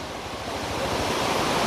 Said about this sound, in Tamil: மேகமலையிலேருந்து வந்து பார்த்திங்கன்னா 1 கிலோமீட்டர் டிஸ்டன்ஸில் இருக்கக்கூடிய ஒரு அருவி தான் இது